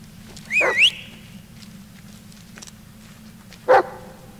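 A dog in the Blair Witch video game barks twice, a rising bark-yelp early on and a shorter bark about three seconds later, clear and fairly close over a low ambient rumble.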